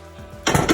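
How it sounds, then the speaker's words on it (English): Pasta is stirred in a pan, giving a short burst of close, scraping clatter after a quiet moment. "And then I'll give it a good mix up."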